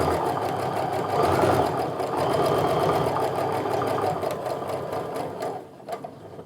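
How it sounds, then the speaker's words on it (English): A sewing machine runs in a fast, even mechanical rattle as it stitches quilt pieces for a diamond quilt. The sound is close and continuous, then slows and stops near the end with a few last clicks. "And then when I sew this, again, we're going to be coming out right in these valleys."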